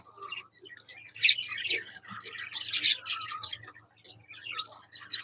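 Budgerigars in a nesting setup chirp and twitter in a busy, overlapping chatter of short bright calls, fairly close, with a faint low hum underneath.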